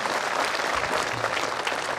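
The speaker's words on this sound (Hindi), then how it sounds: "अभी हाथ थोड़े कमजोर आई तालियां" Audience applause at a Hindi evening tribute event for martyrs, a steady dense patter of clapping hands sustained throughout without pause.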